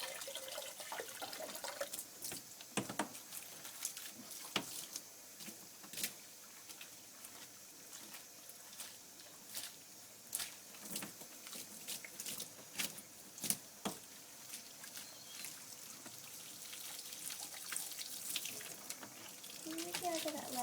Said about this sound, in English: I'm rinsing all of the soap out of her coat